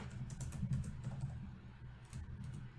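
Rapid, uneven tapping on a computer keyboard as text is entered into a Scratch project, close and steady for the whole stretch with no voices.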